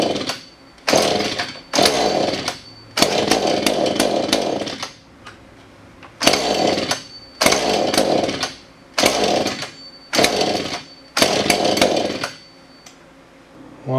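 A Husqvarna 435 chainsaw that had been failing to run starts and revs in repeated loud, close bursts, each about a second long, with brief quiet gaps between them.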